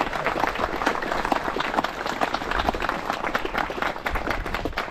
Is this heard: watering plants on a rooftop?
no